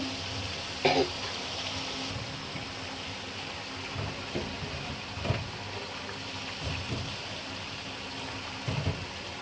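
Chicken, potatoes and spices frying in a pan, a soft continuous sizzle with a few brief clinks and stirring scrapes, fairly quiet and without talk.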